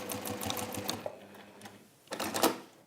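A sewing machine stitches fabric close by in short rattling bursts, falling quiet partway through before a final brief run.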